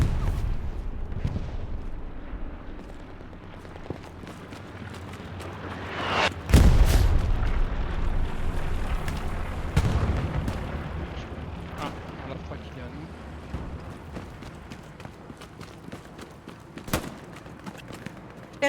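Gunfire and artillery in the World War II shooter Hell Let Loose, with a loud booming blast followed by scattered sharp shots and distant rumbling explosions across a noisy battlefield, and a voice talking over the action at times.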